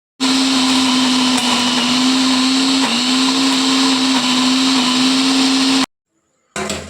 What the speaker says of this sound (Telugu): ఇప్పుడైతే మనం మిక్సీ పట్టేసుకుందాం